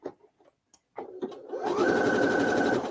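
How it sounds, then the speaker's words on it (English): A sewing machine stitching over the collar of a thrifted lace dress: a few soft clicks and taps, then a steady fast whirring run of stitches that continues to the end, close and fairly loud. "I think I'm still stitching over the collar"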